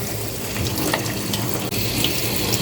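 Water pours steadily into a plastic Rescue fly trap onto the dry fish-smelling bait, a continuous close splashing trickle with no voices.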